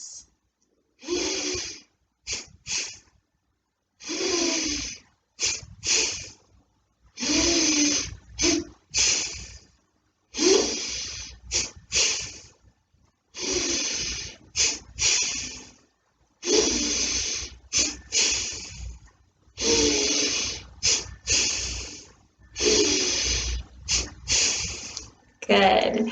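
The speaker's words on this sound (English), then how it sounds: "Now let's listen to our breath" Slow, deep yoga breaths, each long inhale followed by an exhale, repeat in a steady rhythm of about a dozen close, airy cycles with short silences between.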